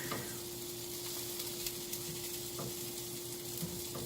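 Grilled cheese sandwiches frying in a pan give a steady, close sizzle with faint crackles and a low constant hum underneath, and no one speaks.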